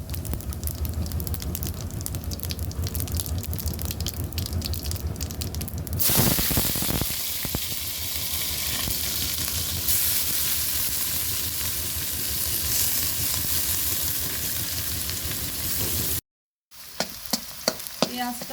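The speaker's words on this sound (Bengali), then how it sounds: "পেঁয়াজটা ভাজা হয়ে গেছে" Onions and cumin fry in a pan with a steady, close sizzle, broken by stirring scrapes and a louder hiss as more goes in, continuing alone with a brief cut near the end.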